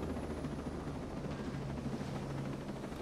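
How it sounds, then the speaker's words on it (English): Helicopter in the video game Ghost Recon Breakpoint, a steady low rotor drone with droning engine hum, continuous and close throughout without pauses. "Jump out of the helicopter."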